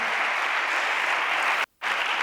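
Congregation applause in a church service, a dense wash of many hands clapping at once, loud and continuous before cutting off abruptly and then resuming.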